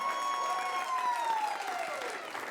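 An improv comedy audience applauds to vote for a film, steady clapping mixed with a loud, falling vocal whoop from the crowd.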